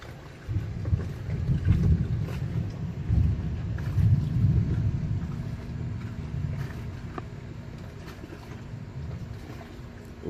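Deep rolling thunder from a summer thunderstorm in South Alabama, a low sustained rumble that swells in the first few seconds and then fades into a steady distant roar with wind noise throughout.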